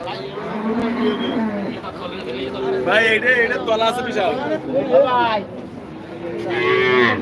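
Cattle at a busy livestock market lowing loudly, several long moos close by, mixed with people talking and a crowd murmuring.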